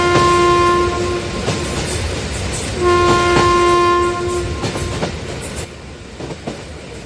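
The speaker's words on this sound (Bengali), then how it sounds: "সামনে দিয়ে রেলগাড়িটাও গর্জন করতে করতে বেরিয়ে গেছে।" A train roars close past with a loud rumbling, clattering rush, its horn blasting twice in long steady tones, fading slightly toward the end; no voices.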